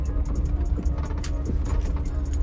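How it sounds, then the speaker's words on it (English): A car drives toward a construction development site, its steady low engine and road rumble continuous and fairly close throughout, with no speech. "And we're driving towards the project."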